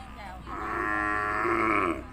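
Beef cattle at a Thai cattle market in Sikhoraphum give a single drawn-out moo, loud and close, rising and then fading, over faint background noise.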